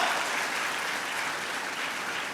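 Applause from an audience fills an auditorium in a dense, steady wash of clapping that holds at a constant loud level throughout, with no voices standing out.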